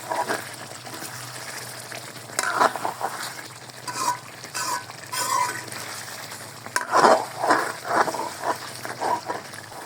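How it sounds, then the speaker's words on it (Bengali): Chicken korma being stirred and fried in a pan over medium heat, with a steady sizzle and intermittent scraping, stirring bursts close up, no voices. "এভাবে নেড়ে নেড়ে কষিয়ে নিতে হবে চিকেনগুলোকে।"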